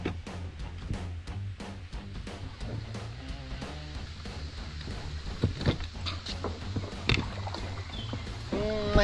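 Small boat being paddled on water during a fishing and camping outing, with repeated knocks and splashes of paddle strokes at an irregular rhythm, close by, plus faint background sounds.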